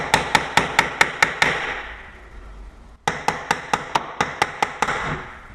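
A hammer taps a latch-cutting tool into the edge of a door to form the deadbolt latch recess, giving two rapid series of about seven sharp, evenly spaced metallic strikes separated by a short pause, close and clear.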